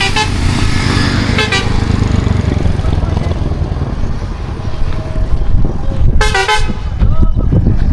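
A Pramukh Deep Travels bus on the Mandavdhar to Surat route arrives with a loud engine rumble and sounds two short horn toots several seconds apart, while people talk nearby.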